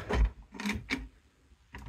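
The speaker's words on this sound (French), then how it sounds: "les classiques tiroirs à couverts" A cutlery drawer in the kitchen of an Intégral Sirius 3018 motorhome slides open and shut, giving several close, sharp clunks and rattles with brief pauses between them.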